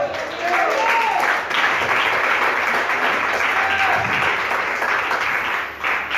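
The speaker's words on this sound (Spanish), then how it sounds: "Regala bonita las palmas al Señor" Church congregation in Nicaragua claps during a sermon, a steady, fairly loud stretch of many hands applauding with a few voices faintly beneath.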